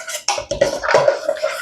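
A spoon stirring a parsley-flecked white sauce in a pan, with soft scraping and light clinks of metal against the pan in a short, close, uneven burst.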